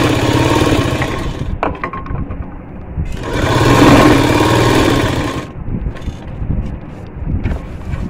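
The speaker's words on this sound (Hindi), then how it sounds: "इसको रुमाली को ऊपर की तरफ से हमें ऐसे सिलाई ज्वाइन करनी है" Sewing machine running steadily as it stitches a plain salwar seam, joining the rumali piece; a loud continuous mechanical whir in several bursts with brief pauses, no speech.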